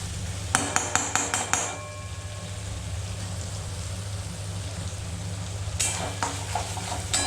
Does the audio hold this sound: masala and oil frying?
yes